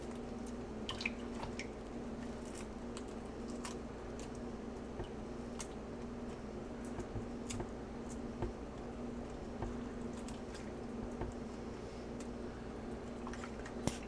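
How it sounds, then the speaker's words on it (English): Pomegranate seeds drop into a bowl of water as they are picked out by hand, giving scattered faint drips and small plops over a quiet steady background hum. "Seeds are falling in the water."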